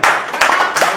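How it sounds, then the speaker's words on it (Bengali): A small group claps for an uncle who has just won a gift in a claw-machine challenge game. The applause comes in short, loud, close bursts of hand claps that stop and restart about three times within a second. "চলো জোরে হাততালি কাকুর জন্য"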